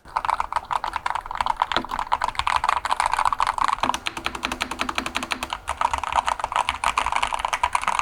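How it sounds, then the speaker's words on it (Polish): Fast, continuous clacking of keys on a mechanical keyboard with an unsilenced spacebar, close up and steady, with louder thumps from the spacebar now and then. "sami posłuchajcie, jak ta klawiatura brzmi"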